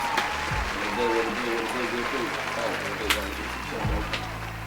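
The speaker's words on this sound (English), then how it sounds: "give him a round of applause" A studio audience on a talk show applauds and cheers a guest, a continuous rush of clapping with a few louder accents while voices talk over it.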